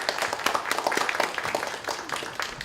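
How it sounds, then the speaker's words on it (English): Applause from a symposium audience: many hands clapping in a dense, steady patter close by, easing slightly near the end, with no talk over it. "round of applause"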